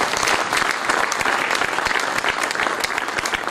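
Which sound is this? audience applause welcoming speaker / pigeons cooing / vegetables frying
audience applause welcoming speaker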